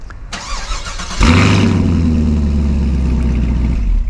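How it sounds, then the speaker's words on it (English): A 2024 Chevrolet Camaro 2SS fires up with a sharp burst, then settles into a deep, loud, rumbling idle from its quad-tip dual exhaust, close by. "that quad tip dual exhaust, which we can take a listen to"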